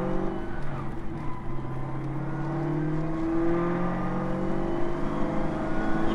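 Car engine accelerating steadily on a test drive, a loud, close engine drone rising in pitch through the gear, with road and wind noise underneath.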